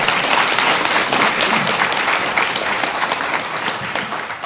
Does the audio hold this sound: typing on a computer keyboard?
no